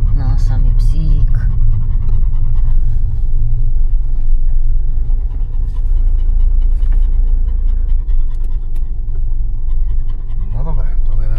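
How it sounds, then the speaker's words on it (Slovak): Dog panting in rapid rhythmic breaths close by, alongside a steady low vehicle rumble from inside a moving car or caravan, with people talking at times. "No, samý psík."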